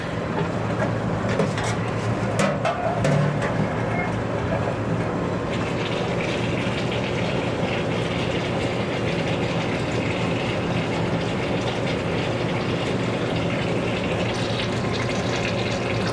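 Fryer oil draining and running through a filtering machine, a continuous rushing, pouring flow with a steady mechanical hum and a few knocks early on, close and constant.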